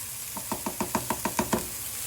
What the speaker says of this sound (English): Give that a stir. Then add yourself your chopped chilies.